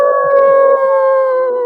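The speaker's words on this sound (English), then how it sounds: "Cue the howl." A howl sound effect is played on cue at the end of an online crypto panel. It is a single loud, sustained, wolf-like tonal howl lasting under two seconds, with no speech over it.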